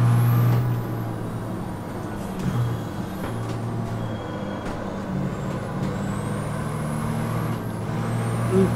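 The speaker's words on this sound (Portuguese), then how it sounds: "Esse é o caminhão da MAN RM Competições." A MAN racing truck engine from Fórmula Truck in a racing video game drones steadily and loud throughout, a low continuous rumble with faint higher whines and occasional hisses.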